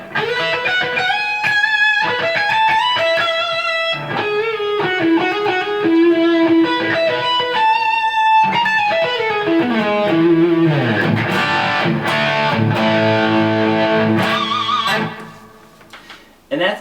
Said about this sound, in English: If I add delay, it definitely adds a little bit to it.